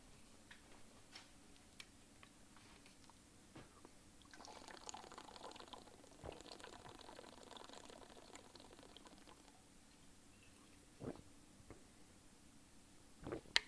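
Water poured into a container in a resin crafting workshop, a quiet trickling stream lasting several seconds, with faint ticks and clicks scattered around it and no talking.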